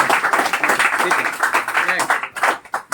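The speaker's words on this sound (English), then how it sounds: "we are giving a big clap for" A classroom of students claps together in a brief burst, the hand claps loud and close under a speaking voice that carries over them.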